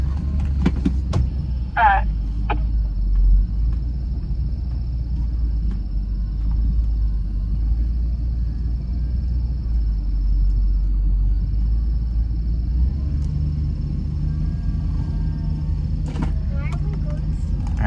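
Vehicle engine rumbling steadily while towing a camper on a rope to pop-start it, a low continuous drone throughout with brief clicks and a few faint voices in the background.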